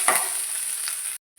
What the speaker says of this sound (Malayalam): നന്നായി ഇളക്കി മൂപ്പിച്ചെടുക്കാം.